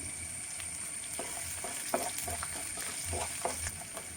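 Garlic fries in hot oil for an okra pulissery, a steady close sizzle with scattered sharp pops and crackles running throughout.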